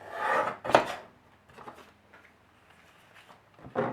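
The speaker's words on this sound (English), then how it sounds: "So I'm just going to cut 1 strip out at 1/4 of an inch." Scissors or a paper trimmer slice a quarter-inch strip from a 6x6 sheet of craft paper: a couple of quick, soft rasping cuts up close, then quiet rustling and a final short scrape.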